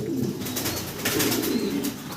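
English pigeons coo in low, rolling throaty phrases, close and continuous, with faint background noise and no talk.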